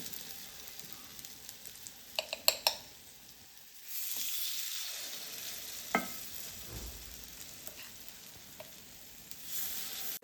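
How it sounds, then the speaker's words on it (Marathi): Veg appe batter sizzles steadily in a hot appe pan, a bright continuous frying hiss with a few sharp clicks and spoon taps as spoonfuls are added, no voices. "इथे एक एक चमचा मी बॅटर घालून घेणार आहे"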